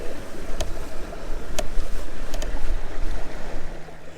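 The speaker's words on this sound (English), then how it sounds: "you hear it coming? You hear the noise? That water?" Water rushing and hissing steadily past the hull of a Windrider 17 sailboat off Matagorda Island, Texas, loud and close, with wind noise and a few sharp slaps of spray.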